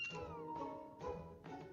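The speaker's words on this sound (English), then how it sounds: "Catboy and a bunch of kittens." Kittens meow in Final Fantasy XIV, three or four short, high, rising-and-falling mews in close succession, near and clear, with faint game sounds underneath.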